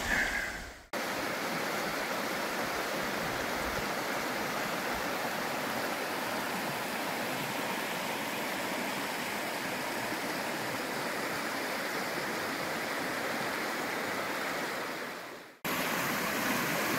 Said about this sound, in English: Now we're down here by the creek.